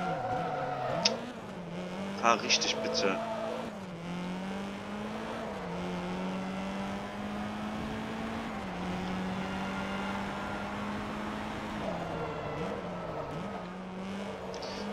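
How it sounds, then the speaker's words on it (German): Drift car in the Forza Motorsport 2 racing game, a steady engine drone rising and falling with gear changes and slides, with brief squealing bursts early on and someone talking over it. "Ja, es ist ein Driftauto, man merkt schon bereits."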